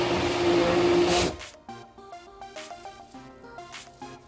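A kitchen blender whirs loudly, blending eggplant with an egg, then cuts off abruptly after about a second, leaving music playing.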